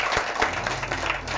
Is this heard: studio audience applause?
yes